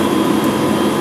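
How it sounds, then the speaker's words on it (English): Machinery aboard the International Space Station gives off a loud, constant, roaring hum that stays unbroken for about a second before cutting off abruptly. "the loud sounds of machinery on the space station"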